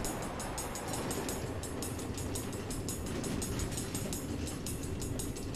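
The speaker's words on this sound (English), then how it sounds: "Automated train tracks running all through the nether, connecting all the different order members?" Steady rolling clatter of a Minecraft Story Mode minecart train running along rails through the Nether, continuous rhythmic clickety-clack with no voices.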